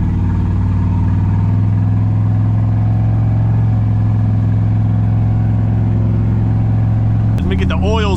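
Turbocharged LS engine in an older car running on E85 idles loudly and steadily while warming up, then ends abruptly with a short clunk; someone talks over it.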